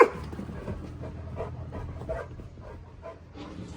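A pet dog named Kai pants and whimpers close by, its breathing rapid and uneven, with soft yips and low bark-like bursts fading toward the end.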